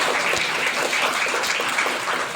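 College students clap together in a hall, a steady, dense round of applause that holds at an even level throughout, with no voices standing out.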